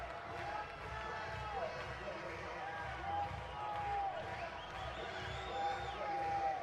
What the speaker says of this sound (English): Crowd here at the Dish making some noise.